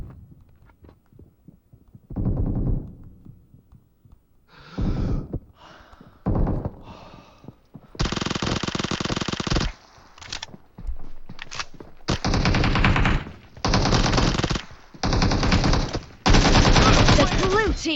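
Rapid automatic gunfire crackles in a video game match, coming in repeated loud bursts of several seconds each, separated by short pauses and quieter clicks of reloading.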